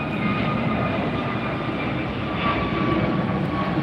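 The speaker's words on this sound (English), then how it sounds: "Air France arriving from Paris," A steady, loud roar from an Air France Boeing 777-300ER jet arriving at LAX from Paris, a broad continuous engine rumble with a faint whine, unbroken throughout.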